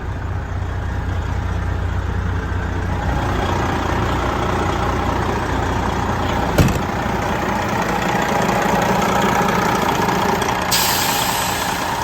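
A 2016 Freightliner Coronado truck engine, with some blow-by, idles in a steady, continuous rumble close by, with one brief click partway through and no voices.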